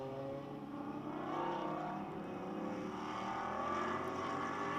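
GT4 race cars at Sonoma, a Mustang among them, hold engines on throttle, a sustained droning roar with shifting harmonic pitch, steady and moderately loud with no voices.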